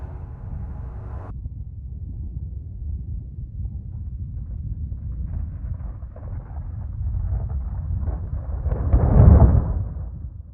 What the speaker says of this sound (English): You know, I can actually play the storm sound effect without the reverb too,